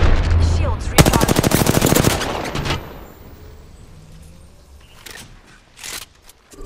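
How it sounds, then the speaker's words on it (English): Rapid automatic gunfire bursts in a ranked arena shooter match, a dense loud volley lasting about two seconds followed by quieter scattered shots and faint game sounds, with no talking. "The enemies are shooting at me."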